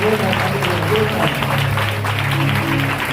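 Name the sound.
church congregation clapping loudly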